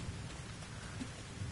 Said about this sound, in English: Let me turn the rain off.